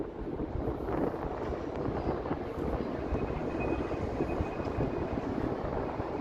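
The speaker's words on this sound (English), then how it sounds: "It is pretty breezy" Steady breeze on a city street in Toronto on an evening, a continuous broadband rushing roar that buffets the microphone without pause, fairly loud and even throughout, with no voices.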